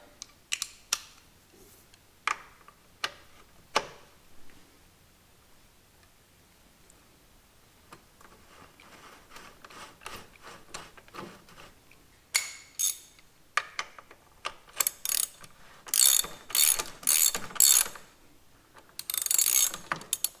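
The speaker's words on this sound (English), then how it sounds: "And now back over here with a 17 mil hex drive." Ratchet driving a 17 mm hex socket during a Suzuki V-Strom engine swap clicks in repeated close bursts, sparse at first and then fast, loud runs of pawl clicks.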